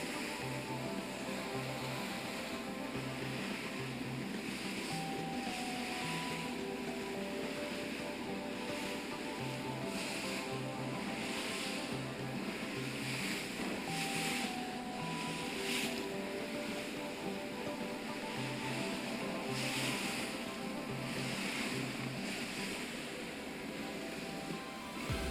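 A small skiff motors across choppy water on Hatteras sound, its steady engine drone running beneath wind buffeting and water slapping the hull, fairly even and unbroken for the whole stretch.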